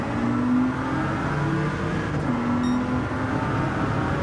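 A Peugeot 908 HDi FAP diesel race car engine in Gran Turismo 7 at Spa drones steadily with a low, rough rumble, changing pitch slightly as it accelerates, continuous and fairly loud with no voices.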